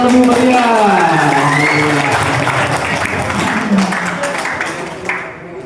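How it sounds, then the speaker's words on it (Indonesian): Students of a boarding school applauding together at a school talent exhibition, a dense, sustained wash of clapping that stays loud throughout and fades slightly at the end, with a voice speaking over it. "Tepuk tangan yang lebih meriah."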